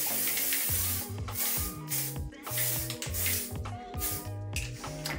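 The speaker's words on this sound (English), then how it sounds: "I'm gonna use my old air flash" A Dior Backstage Airflash setting spray lets out a run of short, close hissing bursts in quick rhythm. The puffs are fairly faint, with soft music playing underneath.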